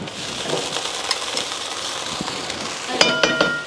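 Soaked lentils hit a hot pan and sizzle steadily, with a few sharp clinks of utensils against the pan near the end.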